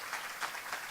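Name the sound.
audience applause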